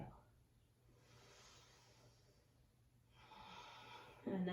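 A slow, audible exhale through the nose in yoga bridge pose, soft and breathy, stretching over several seconds at close range, followed by a brief louder rustle near the end.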